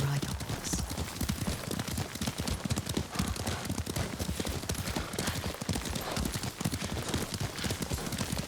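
Horse hooves clip-clopping steadily at a riding pace in Ghost of Tsushima, a dense regular rhythm of close hoof strikes that runs the whole time, with a brief whinny-like touch near the start.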